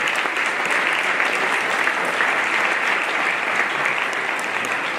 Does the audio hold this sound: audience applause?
yes